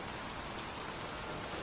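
Pouring rain in a cemetery, a steady, dense hiss of heavy rainfall on surfaces, constant and fairly near for the whole stretch, with no voices.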